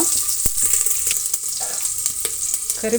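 Onion, mustard seeds and greens fry in hot oil in a pan, giving a steady, close sizzle with crackling pops and a few stirring scrapes throughout, with no voices.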